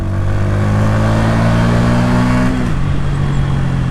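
Bajaj Pulsar N160, a 160cc motorcycle, accelerating hard to overtake, its engine note rising steadily and loud before a gear change drops the pitch, with steady wind rush throughout.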